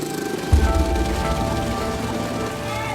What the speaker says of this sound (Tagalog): Sa kakaunting patak ng ulan, aakalain mong normal lang ito.